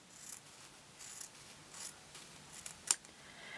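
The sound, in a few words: cutting quilt fabric along a line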